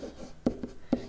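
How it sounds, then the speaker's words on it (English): Pen scratching on paper during a geometry lesson, with a few short quick strokes, two of them sharper and louder, close by and without speech. "I'll write it down"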